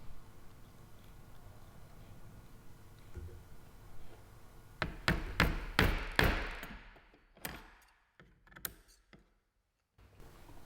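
Sharp tacks pressed and tapped into a painting's wooden stretcher to hold fishing line binding the keys: a cluster of crisp clicks and knocks near the midpoint, then a few scattered taps and rustles against a quiet room.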